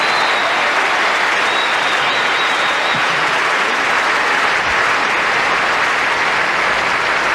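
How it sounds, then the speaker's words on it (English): A big tennis crowd at the 2005 Australian Open applauds steadily and loudly, sustained clapping that holds at full strength throughout without fading. "warm applause from the Australian crowd"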